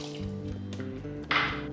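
About half a cup of water is poured into salsa verde ingredients already dressed with avocado oil and salt, a brief splashing fill that rises suddenly late in the sound over a low background hum.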